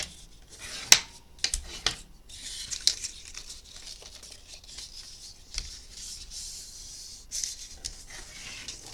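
Paper being folded over on its crease for a birdhouse, soft crinkling and scattered sharp crisp creases and rubs, quiet and close.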